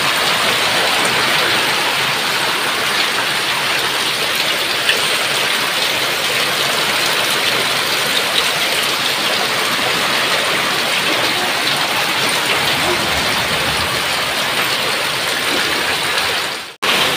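Sudden heavy rain pours down in a Konkan village behind a house among green trees, a dense, loud, continuous hiss of drops on surfaces that runs unbroken until cutting off at the very end.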